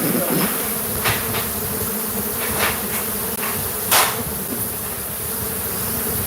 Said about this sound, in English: Because they're all killer bees, do not forget that